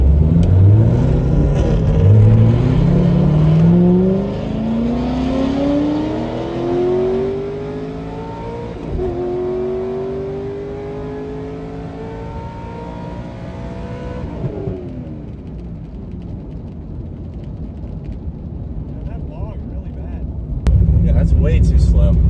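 A naturally aspirated C6 Z06 Corvette and a Whipple-supercharged Mustang launch and accelerate hard in a drag race, their engine notes climbing through the gears before fading, with people talking throughout.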